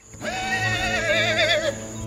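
A three-year-old horse from Aurora, Philippines, lets out one long, loud whinny that quavers steadily and cuts off abruptly, with a low rumble of background noise underneath.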